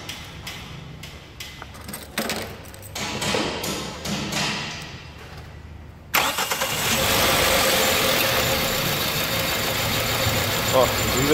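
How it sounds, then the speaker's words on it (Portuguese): A Toyota Corolla engine cranks and catches, then idles roughly and loudly on only three cylinders with an uneven, shaky rhythm, after someone speaks over quieter sounds. "Tá com 3 cilindros funcionando só."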